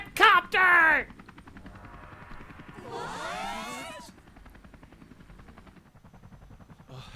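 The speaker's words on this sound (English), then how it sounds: "We got a cat copter!" A cat character in the video game Persona 5 Royal transforms into a helicopter, with a sweeping whirring effect rising mid-clip after sharp game bursts, over steady rhythmic background music.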